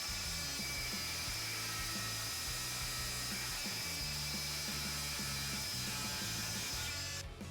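A Milwaukee M12 FUEL oscillating multi-tool cuts through a general contractor screw with a continuous high buzzing whine and a rough metallic grind beneath it, loud and unbroken, cutting off right at the end.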